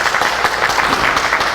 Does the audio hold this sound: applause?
yes